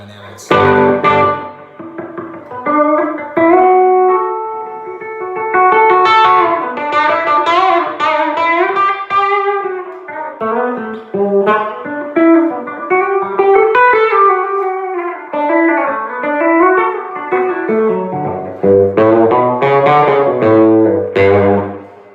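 A distorted electric guitar with a DiMarzio Super Distortion pickup plays a continuous melodic line with a gritty, overdriven tone, loud and up close, no voices.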